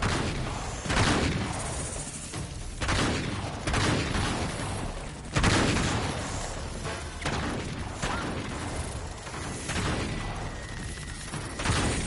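Gunfire in Uncharted 3: Drake's Deception rattles in dense, repeated bursts with heavy impacts and crashes, loud and continuous, with sharp shots punctuating the constant battle noise.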